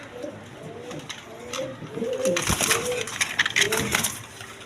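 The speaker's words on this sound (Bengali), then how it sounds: "এইখানে আরেক পেয়ার রাসগোল্লা কবুতর আছে" Rasgolla pigeons cooing close by in a bird market, repeated low throaty coos with flapping and scuffling sounds, while a seller talks in the background.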